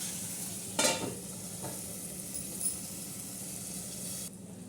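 Lemon and green chili pickle sizzles steadily in a pan as it is stirred, with a couple of louder scraping bursts near the start over a constant frying hiss, close and fairly loud.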